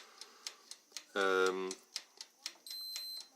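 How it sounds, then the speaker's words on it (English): A digital thermometer gives a steady high-pitched beep near the end on reaching 180 degrees while baking parts in an oven, after a run of sharp, regular clicks and a brief low buzzing tone. "The thermometer is beeping, which is telling us that it's reached 180 degrees."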